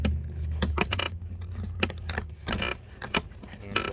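Stiff new Beetlejuice tarot cards are shuffled by hand in short riffling bursts and clicks, close and uneven, with brief pauses between passes.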